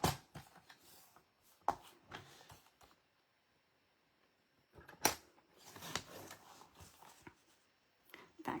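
Scissors snip through a paper scrap for a handmade card, a few quick crisp cuts and rustles in a quiet room, separated by a silent pause.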